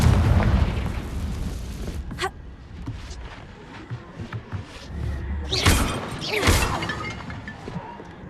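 In Hogwarts Legacy a Confringo blasting spell goes off with loud close booms and thuds, followed by scattered crashing debris and a couple of sharper bursts over several seconds.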